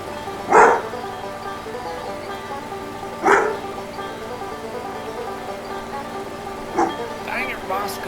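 A dog barks three times, spaced a few seconds apart and fairly close, in a LEGO animation featuring hillbillies and an airboat, over a steady low background hum.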